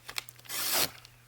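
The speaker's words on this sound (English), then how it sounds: "I just want to cut this in half." Journal cover material is cut in half, making a short, soft tearing rasp of under half a second after a few faint taps, close by and quiet.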